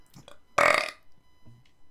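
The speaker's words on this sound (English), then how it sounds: "That burp was brought to you by Samson's Auto Body" A single loud, throaty burp from a character in Grand Theft Auto V, close and prominent, with faint game sounds and brief murmurs around it.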